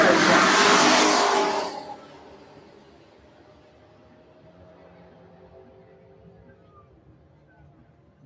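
A Cadillac race car launching at a drag race, its loud roaring engine close at first and then fading quickly into the distance, leaving faint crowd and background noise.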